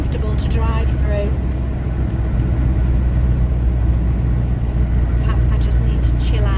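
A camper van drives over slushy ice on winter tyres, giving a steady, loud low rumble of road and tyre noise throughout, with brief voices at the start and end.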